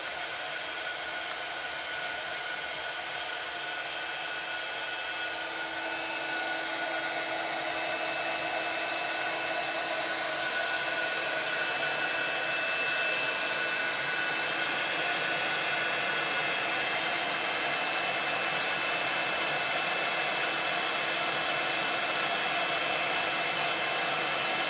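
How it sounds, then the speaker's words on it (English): A heat gun blows hot air steadily and continuously for the whole stretch, used in fabric stamping and craft work. It is a broad, even hiss with no speech, getting slightly louder after the first few seconds. "a little bit of noise for the heat gun"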